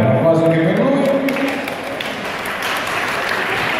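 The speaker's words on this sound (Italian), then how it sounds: "un applauso anche per lui" An audience applauds at the Miss Italia 2016 award ceremony in Sansepolcro, with loud, steady clapping that begins under a fading voice and continues to the end.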